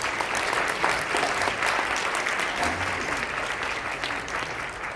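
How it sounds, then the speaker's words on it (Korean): An audience at a Korean-American friendship evening gives a steady, full round of applause to welcome a university professor to the stage, dense clapping lasting the whole stretch without speech. "여러분 큰 박수로 환영해 주십시오"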